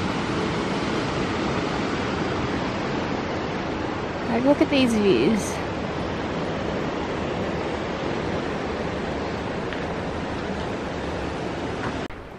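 Rushing water of a river below a hiking trail in Yosemite Valley, a steady broadband roar heard from a distance, with a brief spoken remark partway through.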